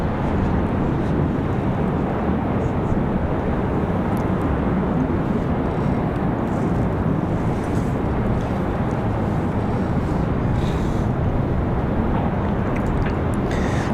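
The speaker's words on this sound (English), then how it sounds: "looks like that citation latitude is on short final here from Vero Beach" A NetJets Cessna Citation Latitude business jet on short final approach at Raleigh-Durham airport, a broad steady roar of jet engines holding level for the whole stretch, fairly close and continuous.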